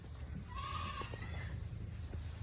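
A single short, wavering goat bleat rises over a low rumbling background, moderately close.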